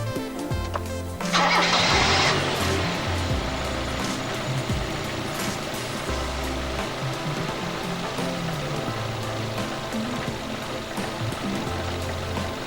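A Toyota car engine cranks and catches with a sudden loud burst, then settles into a steady, close idle hum that continues without any talk.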